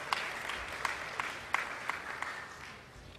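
A room of people gives a round of applause, a dense wash of clapping with a few louder individual claps standing out, gradually tapering off toward the end.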